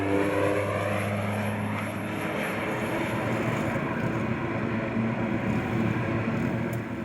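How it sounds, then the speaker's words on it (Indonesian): A small propeller airplane lands on a remote border airstrip in Krayan, its engine droning loud and steady throughout with no talk. "Pesawat kecil yang mendarat di landasan jadi perhatian kami siang itu."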